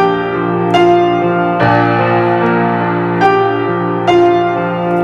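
Solo piano playing a song with full sustained chords, struck in a steady pattern with fresh attacks every second or so, loud and close with no voices.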